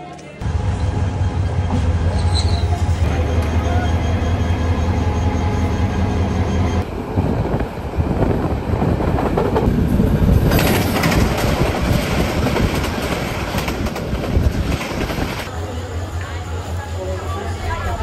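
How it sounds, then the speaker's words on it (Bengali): The Sagorika Express rumbles along between Chandpur and Chattogram, a steady close roar of wheels on rails that swells louder midway and then settles back into a smoother drone. "আমাদের ট্রেন এসে পৌঁছালো হচ্ছে বলাখাল স্টেশনে"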